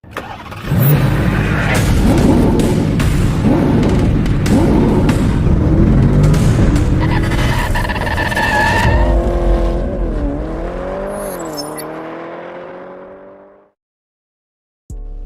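A GWM Tank 700 plug-in hybrid SUV drives past loudly, its engine revving and accelerating with a brief tire squeal before the sound fades away into near silence at the end.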